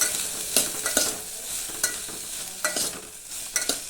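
Tomatoes sauté in oil for a Konkan-style home meal, a soft, continuous sizzle punctuated by crisp spoon-against-pan clicks as they are stirred, close and fairly quiet, with no voices.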